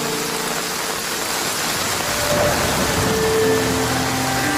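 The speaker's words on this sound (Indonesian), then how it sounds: "akibat hujan deras yang tengah berlangsung" Heavy rain pours in a continuous loud wash of broadband hiss, swelling slightly midway, with faint tonal hums threading through and no speech.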